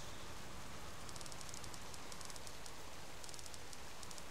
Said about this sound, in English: It's raining, but anyway.